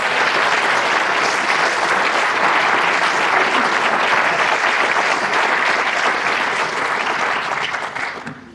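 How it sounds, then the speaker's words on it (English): Audience applause at a county government address, a dense, loud, sustained clapping from a large indoor crowd that holds steady for several seconds and then tapers off. "a new grandpa, a round of applause."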